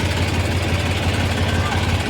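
Massey Ferguson 245 DI tractor diesel engine running steadily nearby, a continuous low throbbing rumble with no break, heard during field ploughing work.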